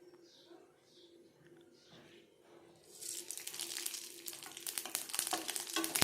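Dried red chilies, whole spices and bay leaf hit hot white oil in a wok, bursting into a loud, dense crackling sizzle after a quieter start with faint bird calls in the background.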